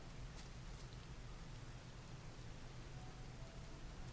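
Steady, soft rain hiss from the video game Zelda: Tears of the Kingdom, a continuous even wash with a low rumble beneath, quiet and unbroken throughout with no voices.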